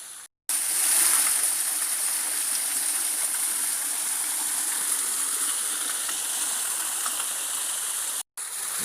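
A shallow woodland stream trickles and splashes into a deep pool in Nutclough Woods near Hebden Bridge, a steady close rushing wash of water with no talk, cut short by brief gaps at the start and end.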